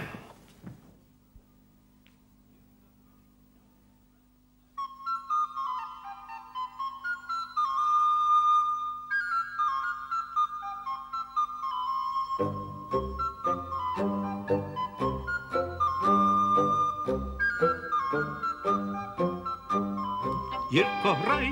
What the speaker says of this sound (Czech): Já bych vám rád zahrál na píšťalku písničku na rozloučenou.